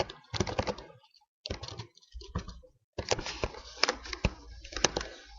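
Someone types quickly on a computer keyboard in short bursts of close, crisp key clicks, with brief pauses between runs and no voices.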